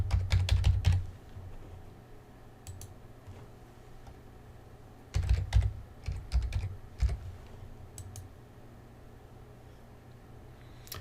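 Computer keyboard typing in two bursts of quick, fairly close keystrokes, one at the start and another around the middle, with quiet pauses and a few isolated clicks between them; no talking.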